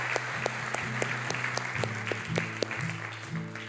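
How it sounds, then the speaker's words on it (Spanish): Congregation applauding in a church service, a moderate spread of clapping under sustained organ or keyboard chords that shift in pitch, with sharp individual claps standing out. "Demos un aplauso a cada valiente que hoy día ha dado este paso"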